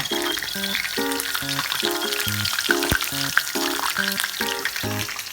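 Scorpions deep-frying in hot oil, a steady loud crackling sizzle close up throughout, with light clinks of stirring and no talk.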